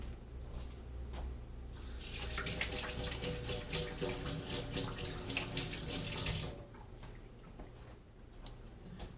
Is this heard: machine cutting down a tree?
no